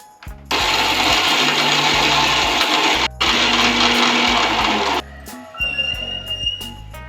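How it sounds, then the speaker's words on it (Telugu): A kitchen mixer grinder blitzes cumin, garlic, salt and roasted gram. It gives a loud, steady whirring roar in two long runs with a brief stop between, then cuts off, leaving a few light clatters. "ముందుగా ఇవన్నీ మిక్సీ కొట్టుకోవాలి"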